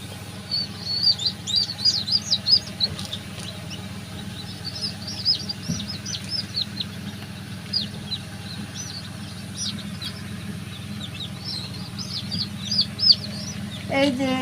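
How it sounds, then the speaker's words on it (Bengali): Many young chicken chicks peep and chirp in rapid high bursts throughout, close by and fairly loud over a steady low hum. "এই যে আমাদের মুরগির বাচ্চা।"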